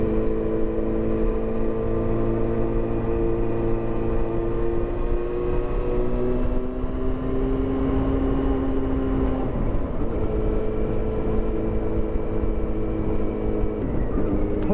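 A Yamaha FZ6 motorcycle with a loud custom exhaust, baffle fitted, holds a steady droning engine note while riding at around 2,000 to 3,000 RPM, with gentle pitch shifts and constant wind rush throughout.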